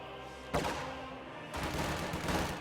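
Bursts of video game gunfire crackle as conscripts engage grenadiers in a strategy battle, two dense volleys of rapid shots, loud and close, with no talking.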